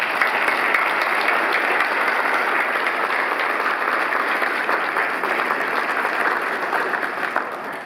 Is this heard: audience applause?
yes